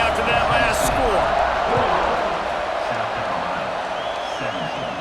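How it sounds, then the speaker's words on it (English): Stadium crowd in a college football video game keeping up a steady, dense roar of noise, with a play-by-play commentator talking over it throughout. "this crowd is buzzing after that last score"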